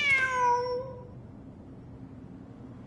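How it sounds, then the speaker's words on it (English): A cat in a video game lets out one clear, fairly loud meow that fades over about a second, followed by quiet ambient game background. "Wait, there it is! The cat!"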